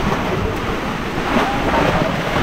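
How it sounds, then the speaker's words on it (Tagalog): Strong wind blowing at sea in the rain on a fishing trip, a steady loud broadband rush mixed with waves and buffeting against the microphone throughout. "Lakas po ng hangin."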